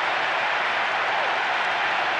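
A stadium crowd in the Winning Eleven 10 football game roars for a goal, a dense, steady wash of cheering and applause throughout.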